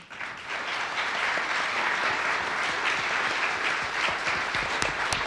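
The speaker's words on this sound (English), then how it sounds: "This is why you don't applaud me, applaud them" Sustained applause from a town hall audience, a dense wash of clapping that swells in quickly and holds steady and full throughout.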